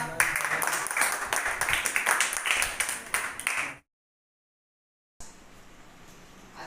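A classroom of young children clapping hands together, a dense burst of sharp, uneven claps that stops abruptly, followed by a short silence and then quiet room noise.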